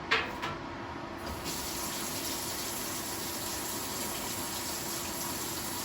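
Water gushes steadily from a tap into a sink, a continuous close rushing sound after a couple of brief clunks at the start.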